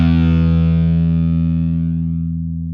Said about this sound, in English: it starts heavy on the fuzz and then dies off quickly